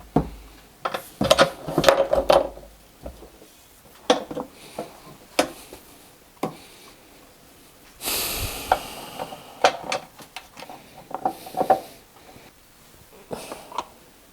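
Parts of a cheap Amazon air compressor being assembled by hand, with its wheels fitted, giving sharp metallic clicks, ratcheting and clunks in irregular bursts, close and moderately loud, with no talking.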